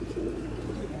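A second pigeon, kept by a pigeon fancier, gives a short, low cooing call close up, soft and alone.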